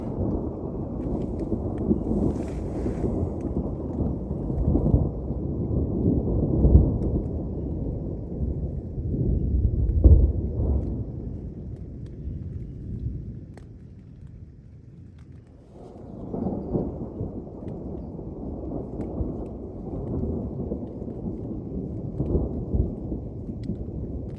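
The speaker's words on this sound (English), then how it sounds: "it started raining and hailing" A heavy thunderstorm with rain and hail during a hike in Michigan's Upper Peninsula, with steady loud rumbling and dense pattering of rain and hail throughout, rising and easing in waves, with no voices.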